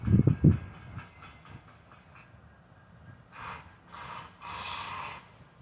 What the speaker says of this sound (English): Those two horns would be an RS3L and a K3LA.